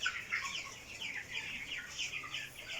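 A flock of 21-day-old broiler chickens on a farm keeps up a steady chorus of clucks and high peeping calls, close and continuous, with no talking.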